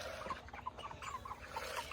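Backyard chickens cluck excitedly while waiting for food, a quiet stream of short repeated clucks and chatter heard from a modest distance, with light outdoor background noise.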